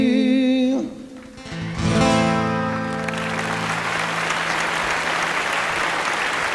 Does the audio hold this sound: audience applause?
yes